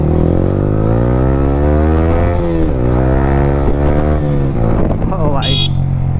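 A Yamaha R15 V3 motorcycle fitted with an Akrapovic R9 exhaust and no dB killer revs loudly up close, its engine pitch rising and falling in repeated sweeps through a night ride, with a short sharp tone near the end.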